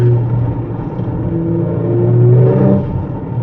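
A 2018 Audi RS4 Avant being driven on a swooping country road, its engine giving a steady, loud, low droning rumble that swells slightly toward the end, with no distinct exhaust pops standing out.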